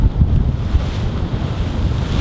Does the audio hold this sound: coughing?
no